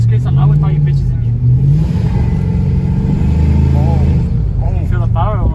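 Chevrolet Colorado pickup engine revving with audible intake noise, heard from inside the cab: a loud, close, rising and falling engine drone while people talk over it.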